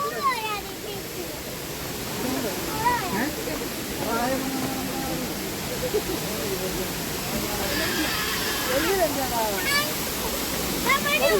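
The Palaruvi waterfall in Kerala roars as a steady, broad rush of falling water, with people talking and calling out over it throughout.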